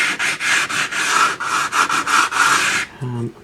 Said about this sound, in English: give them just a light rub with the old sandpaper